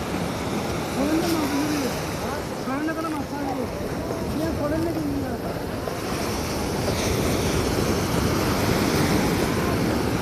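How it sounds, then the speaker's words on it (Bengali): Big sea waves breaking at night on the beach at Cox's Bazar, a continuous broad roar of surf mixed with wind buffeting the microphone, with someone talking over it near the start. "এই ঢেউয়ের মধ্যে মানে বিশাল ঢেউ"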